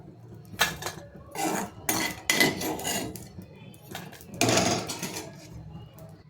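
Irregular clinks and scrapes of utensils against dishes and a plate as fried dry Bombay duck fish is placed onto it, close up, with pauses between the knocks.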